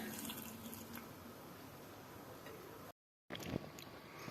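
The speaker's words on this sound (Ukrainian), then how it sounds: "І тепер беремо і заливаємо наші підготовлені баночки." Hot syrup is poured into prepared jars for homemade winter preserves, making a soft, steady trickle that stays faint and close and breaks off briefly before resuming.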